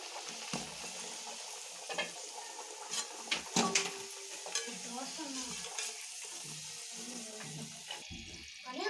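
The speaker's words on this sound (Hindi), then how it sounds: "दूसरे पूरी तलने के लिए मैं डाल देती हूँ कढ़ाई में" Puri deep-frying in hot oil in a kadhai, a steady bubbling sizzle with scattered clinks and scrapes of a utensil, fairly close and continuous throughout.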